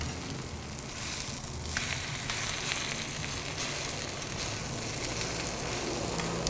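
Spinach sautés on a hot soapstone with a continuous, close sizzle and crackle, with occasional faint scraping over the frying.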